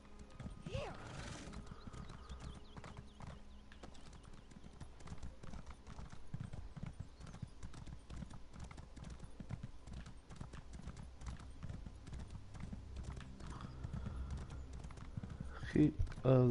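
Rhythmic clip-clop of horse hooves in a video game, a steady trotting beat that runs throughout with a brief whinny near the start, heard under a voice cheering the horse on and game sounds.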